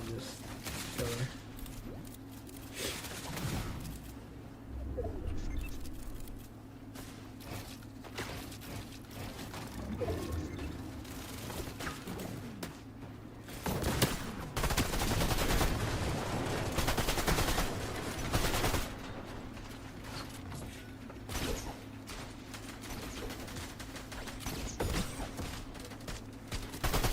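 Gunfire in a mobile battle royale tournament match rattles in repeated bursts and single shots, loud and near, over a steady game background hum, with occasional clatter between volleys.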